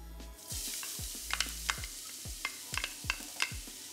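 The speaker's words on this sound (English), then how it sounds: "We're adding our garlic and our onions" Garlic and onions sizzle in oil in a pan on the stove, a soft steady fry broken by repeated stirring scrapes and clicks of a utensil, close and fairly quiet.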